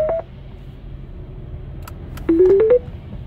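Short electronic phone tones: a brief beep, a pause, then a quick rising run of five or six stepped tones, clear and close with no talking.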